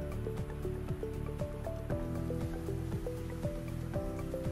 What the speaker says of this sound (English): So I'm just rinsing out the conditioner. My hair is soaking wet.